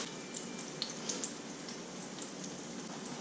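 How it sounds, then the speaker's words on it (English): Steady crackling sizzle of chicken frying in butter, with scattered brighter pops over a constant hiss. "You want to hear that sizzle."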